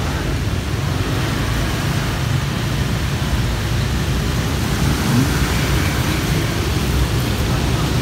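Steady heavy rain pours down over an outdoor bonsai market in Vietnam, a dense broadband hiss that holds level and close throughout, with faint low rumbles in the background.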